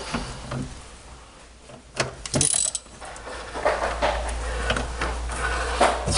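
A Toyota Prius battery hold-down is tightened with a ratchet, giving several close, uneven bursts of clicking over a low background rumble.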